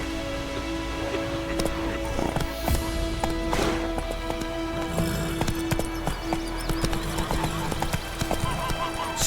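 Roach, the horse in The Witcher 3, gallops with a steady run of hoofbeats under a low musical drone, and a brief whinny rises partway through.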